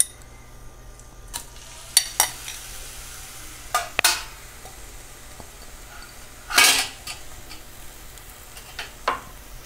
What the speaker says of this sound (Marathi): तूप विरघळलं की मग त्याच्यात आपण हा भोपळ्याचा किस घालून परतणार आहोत।